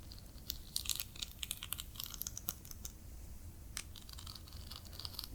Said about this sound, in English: now that we have given the cards a little shuffle